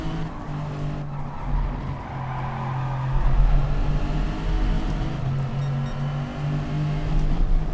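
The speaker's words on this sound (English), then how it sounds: "Tyres are protesting." Race car tyres squeal through a wide corner in the racing video game Wheel2Wheel at Dagon Trail Gardens, a sustained strained squeal layered over a steady engine drone with no pauses.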